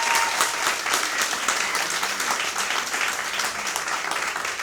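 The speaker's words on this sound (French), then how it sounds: "merci encore une fois pour votre chaleureuse applaudissement" A theatre audience applauds warmly and steadily at the close of a June 2025 stage production, dense continuous clapping filling the hall at an even level with no voices standing out.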